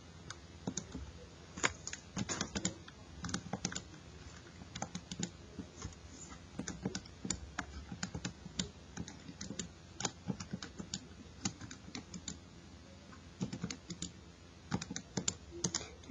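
Button presses on a handheld graphing calculator as data points are entered, a steady run of quick, light clicks in irregular bursts, close and fairly quiet, with no talking.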